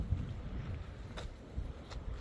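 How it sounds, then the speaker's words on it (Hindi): Strong wind blowing in the mountains on the Shri Hemkund Sahib route, a steady low rumbling gusty roar buffeting the microphone throughout, with no voices. "देखो भाई अचानक हवा चलने लग गई है काफ़ी तेज"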